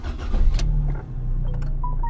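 A Fiat Bravo 1.4 T-Jet in a tuning workshop cranks and its engine catches into a low, rumbling idle. The start-up sounds close and loud, followed by a few faint clicks and small mechanical noises.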